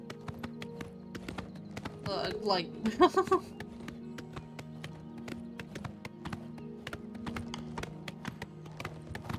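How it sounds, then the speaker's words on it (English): Hooves of Shadowmere, a horse in an Elder Scrolls video game, clip-clop in a quick burst of galloping beats over game ambience, while a person talks quietly underneath. "Shadowmere is literally the best horse in the game"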